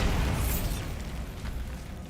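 Bombarda blasting spell going off in the Hogwarts Legacy video game, a loud, close explosion with a crackling burst that fades into a rumbling tail over two seconds.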